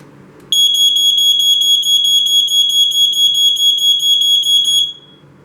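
A Fyrnetics Lifesaver 0908 smoke alarm with escape light sounds its test alarm: one continuous, loud, piercing electronic tone that holds steady for about four seconds and then stops, with faint room noise underneath.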